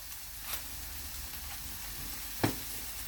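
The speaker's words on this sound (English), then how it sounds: "If you're ever bored of normal toast, do some fried bread." Bread frying in a frying pan gives a soft, steady sizzle, with two brief louder clatters from the pan partway through and no voices.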